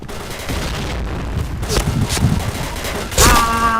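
Gunfire in a video game, a rapid clatter of shots and booms layered with game noise, ending in a louder blast, while players talk over it.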